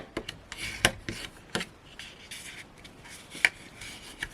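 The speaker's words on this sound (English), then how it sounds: "I can give that a burnish down." Paper card is burnished down by hand during cardmaking, giving soft, close rubbing strokes and light taps in short irregular bursts at low volume.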